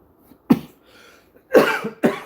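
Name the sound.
coughing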